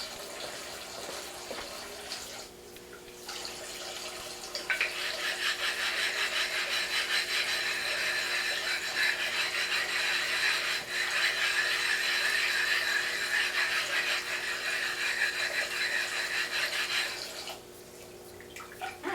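A continuous wet scraping rub of a Naniwa flattening stone sliding back and forth over a dished waterstone, steady and close, with brief pauses at the start and end.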